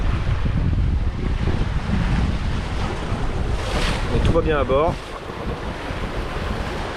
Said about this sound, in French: ces petites vagues méchantes qui nous prennent l'arrière du bateau sans arrêt.